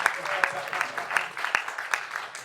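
A concert audience at the Bearsville Theater applauds a Stick Men performance, a fairly faint wash of clapping with a few sharp individual claps standing out, while a voice talks over it.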